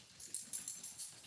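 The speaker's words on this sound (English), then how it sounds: "excuse my dog, guys." A dog in an indoor room makes soft, faint whimpering whines, a few short rising cries in a row, heard alone without speech.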